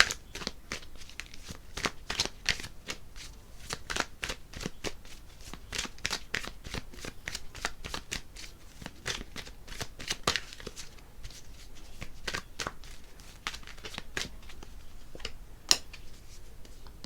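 Tarot cards being shuffled by hand, a steady run of crisp riffling snaps and flicks close up, continuing without pause and with no voice.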